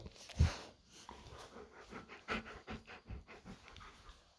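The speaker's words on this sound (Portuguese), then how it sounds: "Esse cachorro é uma coisa incrível." A dog panting close up, a steady run of quick, soft breaths repeating in rhythm for several seconds after one louder bump, with no talking.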